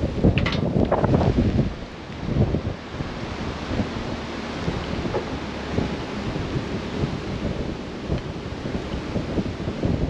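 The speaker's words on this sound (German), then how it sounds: "ist das ein Wind." Strong storm wind outdoors during work on a John Deere potato harvester, roaring and buffeting against the microphone in loud gusts with constant rumble, heaviest at the start, then a steady rough blustering throughout.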